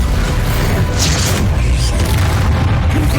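A loud Bombarda blasting-spell explosion in Hogwarts Legacy, a heavy booming burst with a deep rumbling low end that sustains throughout, no voices over it.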